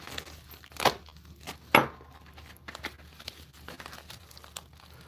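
A knife cuts into tough, cut-resistant plastic packaging, giving two sharp crinkling rips followed by softer scattered plastic crackles and scrapes, close and fairly quiet.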